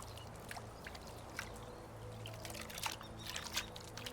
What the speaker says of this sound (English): Let's wash up real quick.